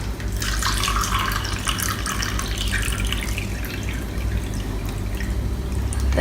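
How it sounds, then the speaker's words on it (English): Liquid poured from a measuring cup into a cooking pot while making chocolate, a continuous close splashing and trickling stream with no talk. "Get out our measuring spoons and pour in a cup."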